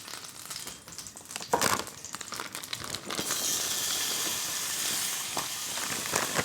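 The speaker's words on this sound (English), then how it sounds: "Adding just another tablespoon or so of oil to this pan, we are now going to brown the pork." Pork browns in a tablespoon or so of added oil in a pan, giving a steady crackling sizzle that thickens into dense, continuous frying hiss in the second half, with scattered sharper pops throughout.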